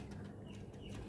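Pigeons feeding give faint, soft cooing over a low, murmuring background.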